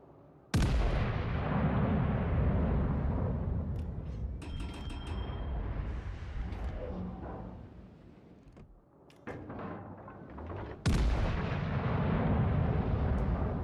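Warship guns in a naval video game fire in heavy booming blasts, two loud salvos opening and closing a stretch of rumbling, crackling battle noise with mechanical clanks between.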